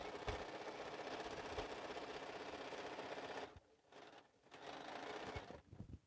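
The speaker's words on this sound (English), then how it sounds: "I'm going to backstitch. On this bag, I do backstitch every seam." A sewing machine backstitches a quarter-inch seam on a slouch bag, running as a steady close whir for about three and a half seconds, then stopping and starting again in short bursts.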